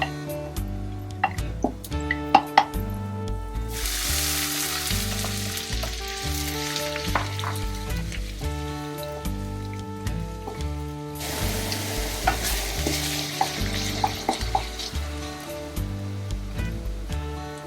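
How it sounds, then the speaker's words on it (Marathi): Onions for Irani chicken kheema sizzle in hot oil, fried to light brown and stirred now and then; a steady, loud frying hiss swells in bursts alongside a repeating music bed, with no talking. "कांदा लाईट ब्राऊन होईपर्यंत भाजायचा चांगला."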